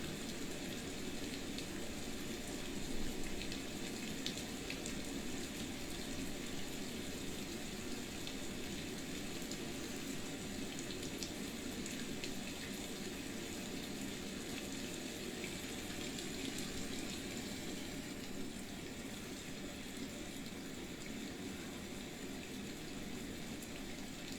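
Steady rain falls without a break, a dense even hiss of water that holds the same loudness throughout, with no voices over it.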